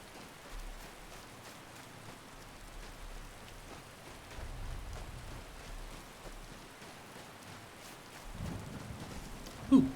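Steady soft rain hiss in Skyrim, a continuous broadband patter at moderate level throughout, with a slight swell near the end.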